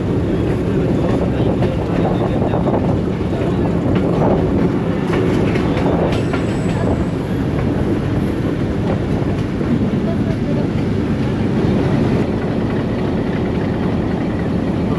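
A Rawalpindi Passenger train running on a single main line as it approaches Sarai Saleh station, giving a steady, loud rumble of wagons with faint clickety-clack and no pauses throughout.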